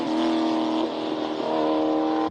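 A Mitsubishi Pajero Evolution Dakar races up a hill climb course with a loud, close engine holding a strong, steady tone that shifts pitch midway as it changes gear or passes.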